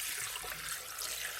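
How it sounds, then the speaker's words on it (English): Tap water runs steadily into an ultrasonic cleaner tank holding bolts and small metal parts, giving a continuous, even hiss of pouring and splashing with no talk. "So what I'm going to do now is start putting the water in."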